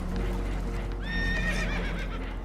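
Spooked horses in a Red Dead Redemption 2 boat scene whinny sharply, one high shrill neigh rising over a constant rumble of water and engine noise, with hoof clatter beneath.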